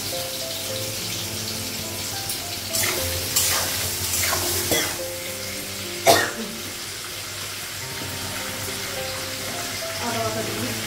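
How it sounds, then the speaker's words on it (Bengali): Sliced radish sizzles in a pan of fried onion, a soft steady crackle broken by a few sharp stirring scrapes and clatters of the spatula, fairly quiet and close, with no voice over it. "পেঁয়াজটা ভাজা হয়ে গেছে,"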